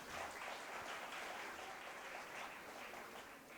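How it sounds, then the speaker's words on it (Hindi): An audience applauds at the Jashn-e-Adab 2025 closing and award ceremony, a sustained, even wash of clapping from a crowd that sounds somewhat distant and faint, continuing without pause for the whole stretch. "ज़ोरदार तालियों के साथ स्वागत कीजिए।"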